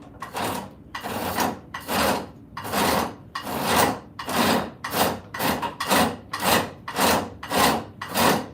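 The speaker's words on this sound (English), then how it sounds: "we're going to take spoke shave" A spokeshave shaves a hardwood axe handle, making rhythmic rasping strokes, about a dozen scraping pulls with brief gaps between, close and steady.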